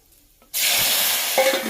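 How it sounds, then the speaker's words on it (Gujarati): Dried red chillies and curry leaves hit hot oil in a Gujarati tempering for muthiya dhokla, bursting into a loud, steady sizzle after a short quiet start, with a brief clink near the end. "સૂકા મરચાં ને લીમડો નાખી દીધા."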